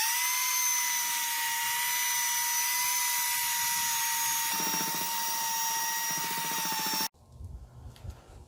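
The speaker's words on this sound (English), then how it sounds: "take the belt sander to it and see what we can do about this rough surface" A vintage Ryobi BE318 belt sander on rough wood whines loudly and continuously with a high tonal drone and a rougher grinding texture, then cuts off abruptly, leaving quieter handling noises.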